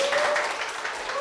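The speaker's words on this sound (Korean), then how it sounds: "후배들의 열렬한 환호를 받으며 시작된 시간" Juniors at a vocational high school event cheer and applaud loudly in a brief, dense burst of clapping mixed with shouting voices.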